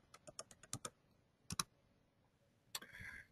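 Someone types on a computer keyboard: quick clusters of crisp key clicks, a fast burst at the start, a pair of taps mid-way, then another flurry ending in a brief rattle, close and alone.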